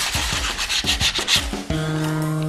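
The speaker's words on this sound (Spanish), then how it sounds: "lo último que vamos a hacer es lijarlo para darle un acabado lo más atinado posible" Rhythmic back-and-forth rubbing strokes of hand sanding polyethylene foam, close, followed by a steady tonal hum at the end.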